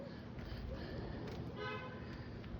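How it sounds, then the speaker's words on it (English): A car horn honks briefly in the middle of steady outdoor noise, with a toot-like tone standing out over a constant low rumble at moderate distance. "There's the honk."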